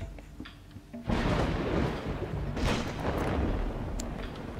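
Thunder from a thunderstorm in the survival game Dawn of Man, a loud rumbling crash that bursts in after a quieter stretch and rolls on with a second swell, filling the scene with no talk.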